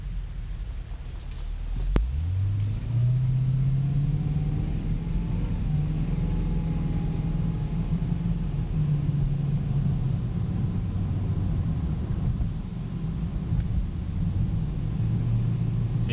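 A 2009 Cadillac CTS-V sedan, a rear-wheel-drive salvage car, picks up speed: the engine's low rumble climbs sharply in pitch, then holds a loud, sustained drone with small shifts as it keeps pulling, heard from inside the cabin.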